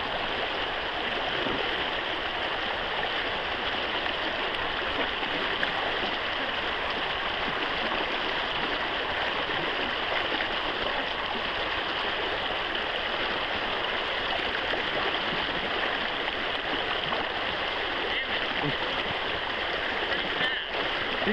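Fast-flowing water of the Missisquoi River rushing around someone wading across, a dense, continuous close roar of churning current that stays steady and loud for the whole stretch.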